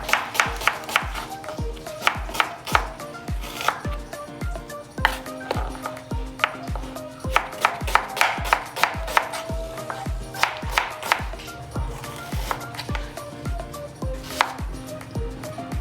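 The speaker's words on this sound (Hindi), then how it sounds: "प्याज को अच्छी तरह जो है हम चॉप कर लेंगे।" Onions being chopped with a knife on a board, a rapid run of sharp, evenly spaced thuds that pauses briefly and resumes, close and loud with no voice.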